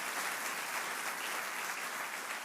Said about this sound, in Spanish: Vamos, dale ese aplauso fuerte si tú te estás viendo a la manera de Dios.